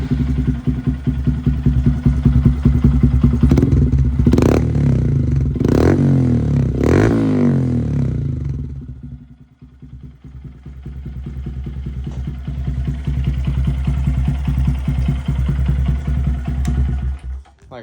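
Honda Grom motorcycle on its stock exhaust fires up from cold and settles into a steady, close idle, with a few quick throttle blips early on before the engine burbles evenly.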